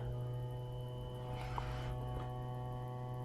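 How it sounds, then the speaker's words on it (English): Electric soft-top motor of a 2009 BMW 120i M Sport E88 convertible, giving a steady, even hum with layered tonal whine that holds constant throughout, with a brief faint rustle midway and no speech. "I can hear the motor."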